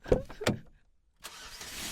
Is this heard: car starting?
yes